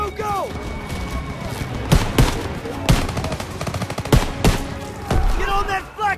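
German MG machine gun fire in a World War II battle around a barn in Call of Duty: WW2, loud sharp bursts and single heavy shots crackling throughout, with shouting voices and battle noise underneath.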